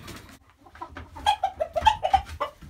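Black Australorp hens cluck in a coop, a close run of short rhythmic clucks rising in a series, with a softer stretch just before.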